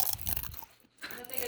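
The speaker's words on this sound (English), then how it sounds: "No, chew into the camera." Someone munches crunchy food right up close, a few quick crisp bites with a short pause, while voices talk nearby during gingerbread-house decorating.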